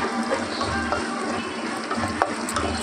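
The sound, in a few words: tempering seeds and dried red chillies frying in oil in pan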